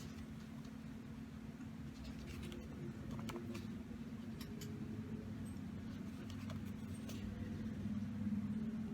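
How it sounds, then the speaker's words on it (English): Faint road traffic passes in the distance, a low continuous rumble of vehicles swelling slightly, with no one speaking. "You guys can probably hear some of the traffic going by."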